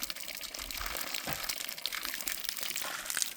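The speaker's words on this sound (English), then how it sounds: "We're gonna drop it in the water." Waxed jute cord dropped into a tub of water to soak, giving a brief splash and crinkling, liquid sounds at close range with a steady watery hiss underneath and no talking.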